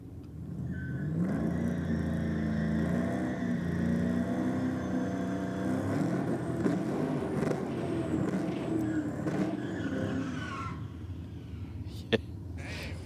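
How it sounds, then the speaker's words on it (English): A Chevrolet Camaro drag car with an LSX engine runs a gentle burnout at a drag strip, its engine droning steadily at a distance under continuous commentator talk. "Going very easy on it in the burnout"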